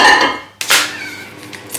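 A favourite frying pan handled in a home kitchen before cooking lardons, a bright metallic clank and scrape, then a second knock and a faint ring fading out, loud and close.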